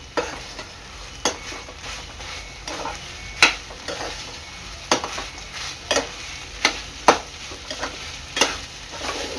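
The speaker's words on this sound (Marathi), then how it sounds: "भात आहे ना चांगला भाज्यांमध्ये मिक्स करून घ्यायचा आहे." Cooked rice is stirred into fried vegetables in a pan for soybean fried rice, with a spatula scraping and knocking in irregular strokes over a constant low sizzle, close and clear, and no talking.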